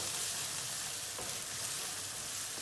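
Onions and garlic fry in a pan for pasta, giving a steady, soft sizzle with a faint crackle throughout and no voices.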